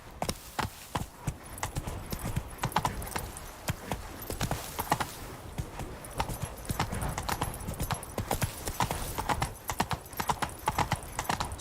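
Horse hooves gallop in The Witcher 3, a steady fast clip-clop rhythm close and clear over a quiet ambient game backdrop, with no talk.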